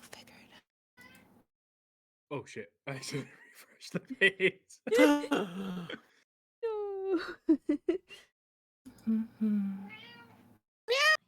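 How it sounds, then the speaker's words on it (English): A cat meows a few times, short and clear between bursts of nearby talk and laughter. "It's my cat."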